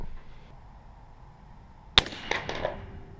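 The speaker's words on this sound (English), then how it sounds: "shooting through the Vortex Prism, we are getting hits on steel" A rifle bullet strikes a steel target on a shooting range, fired through a Vortex Spitfire 3x prism scope: one sharp distant impact with a ringing clang, then a few fainter echoing knocks trailing off.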